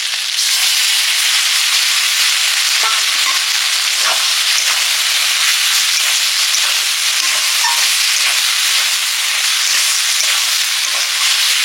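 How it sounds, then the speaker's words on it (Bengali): Potatoes and taro fry in a spiced pan as mustard paste goes in and gets stirred, giving a loud, continuous close-up sizzle with faint scraping strokes throughout and no talking. "আলু কচু মশলার সঙ্গে কষা হয়ে গেছে। এবার দিচ্ছি সর্ষে বাটা"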